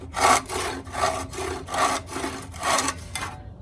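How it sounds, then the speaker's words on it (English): A hand saw cuts through a wooden sign held level, even rasping back-and-forth strokes in a steady rhythm, close and clear, ending as the cut finishes. "You hold it level and just continue cutting it all the way."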